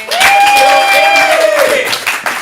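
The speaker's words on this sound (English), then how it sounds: "let's give a big applause for the captain of the red team" Applause from an audience with a whoop or whistle-like cheer rising over it, lively and fairly loud for a couple of seconds.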